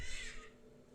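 A short, harsh crow-like squawk from a bird in the horror game Ultimate Custom Night, one rasping call fading after half a second into a quiet hum.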